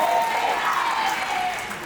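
A church congregation applauding and acclaiming, a dense, sustained wash of clapping from a crowd, loud and continuous with faint voices mixed in.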